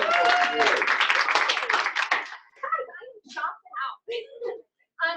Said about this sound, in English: Let's bring a big round of applause for Jamie.